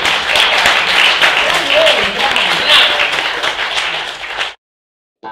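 At the close of a poetry session an audience breaks into loud, dense applause, steady and close for several seconds before cutting off abruptly into silence.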